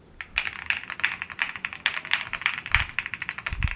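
Typing on a programmable mechanical keyboard at a home desk setup: a steady run of crisp, close key clacks at an even, quick rhythm with a few heavier thocks near the end, no voices.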